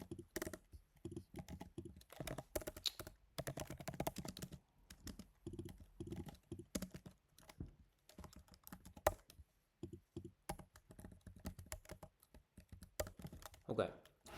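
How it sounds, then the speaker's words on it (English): Fast, uneven bursts of typing on a computer keyboard, close and clear, with short pauses between runs of keystrokes and brief quiet talk mixed in. "let me type def real quick"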